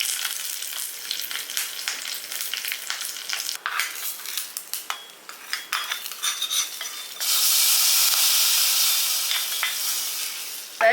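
Oil sizzles in a pan while a utensil scrapes and clinks in irregular strokes as asafoetida is added, then the sizzle surges into a loud, steady hiss near the end.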